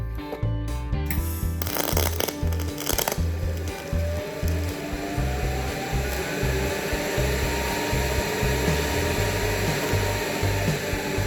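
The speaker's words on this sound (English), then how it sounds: "And we're just gonna start welding." A Miller Multimatic 220 AC/DC MIG welder runs 308L stainless wire onto 304 stainless steel with a continuous close crackling sizzle and steady hum, opening with a few sharp starts.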